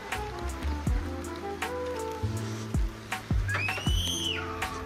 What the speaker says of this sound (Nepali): पानी पर्दैछ